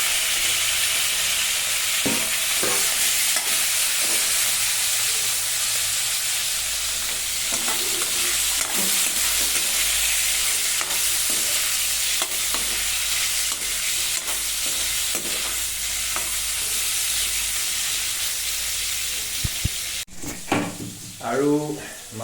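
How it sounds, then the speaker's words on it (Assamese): Pieces of pork fry in hot oil in a wok, a steady loud sizzle with scattered clanks of stirring, ending in a few louder clatters. "অকল গাহৰিখিনি মই অলপ টাইম ভাজিম"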